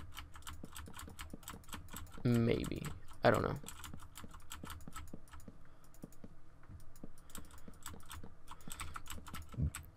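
Rapid, clattery clicking of a loud computer keyboard being typed on steadily, with a person briefly speaking partway through.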